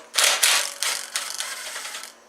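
A ratchet wrench loosens the 10mm oil drain bolt on a Predator 212 small engine, giving a handful of quick, loud, close clicking bursts in uneven rhythm with no voices.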